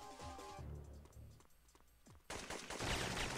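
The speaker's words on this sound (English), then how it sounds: "I hear gunshots outside." Video game gunfire rings out in bursts, with sharp shots and rapid machine-gun volleys that end in a louder, sustained barrage, with no talking over it.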